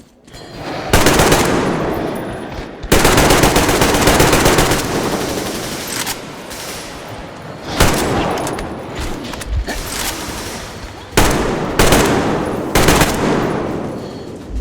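An ambush in the video game Metro Exodus unleashes loud, close bursts of machine gun fire. Several long volleys of rapid shots are broken by short lulls and echoing decays.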